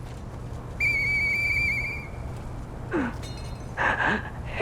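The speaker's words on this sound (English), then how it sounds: "I know that whistle." A shrill sustained whistle in the video game Lies of P, one long steady tone followed by shorter rising and wavering whistle notes over a low background hum.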